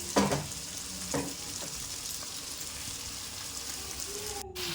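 Fish coated in spices sizzles steadily in a pan, with a few louder scraping turns near the start and a faint voice murmuring under the frying.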